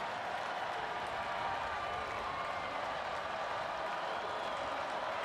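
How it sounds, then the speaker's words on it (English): Homecoming stadium crowd cheering on third and long in the NCAA Football 2025 video game, Northern Illinois at Ohio: a steady, dense roar of distant voices holding at an even level throughout, with no clear individual shouts standing out. "The homecoming crowd comes to life on 3rd and long."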